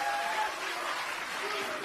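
An audience applauds steadily at a political party event, a dense even wash of clapping held at moderate volume for the whole short stretch.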